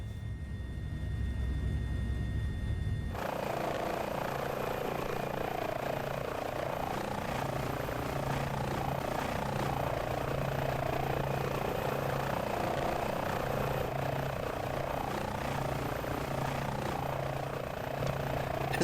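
A simulated aircraft flies fast and low over the Black Hills near Devils Tower in Microsoft Flight Simulator. A steady, full engine roar drones without a break, after a brief, lower rumble at the start.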